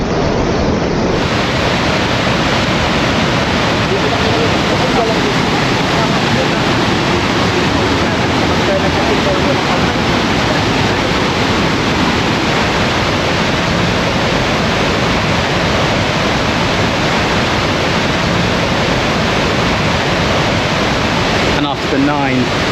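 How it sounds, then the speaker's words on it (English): Pagsanjan Falls in Laguna, Philippines, a loud, steady, unbroken roar of rushing water heard close up for the whole stretch, with no pauses. "we've made it to the waterfall, which we have just in front of me"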